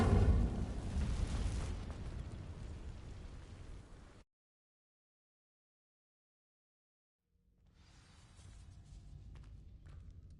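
Incendio fire spell setting dry vines alight in Hogwarts Legacy: a loud roaring whoosh that fades over four seconds into silence, followed by quieter rumbling ambience.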